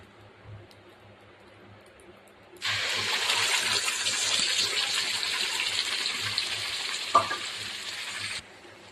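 Masala paste hits hot oil in a pan for hotel-style paneer curry, bursting into a loud, steady sizzle that runs about six seconds after a quieter lead-in, with a brief clink midway before it cuts off.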